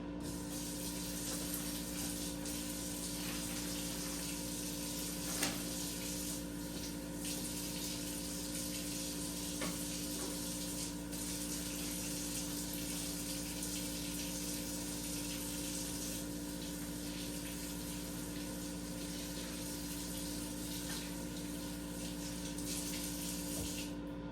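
Kitchen tap water runs steadily into a sink while two birds are rinsed, a constant hiss with slight shifts in flow and no voices.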